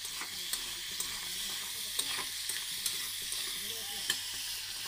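Spiced masala for a jackfruit curry sizzles steadily in a hot pan while a spoon stirs it, giving faint periodic scrapes over continuous frying hiss, close with no talk.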